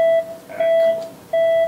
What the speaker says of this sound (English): What's the beeping?